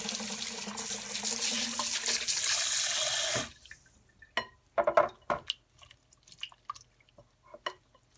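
Cold tap water runs hard into a sink while homemade butter is rinsed, then the flow stops and scattered drips and splashes follow.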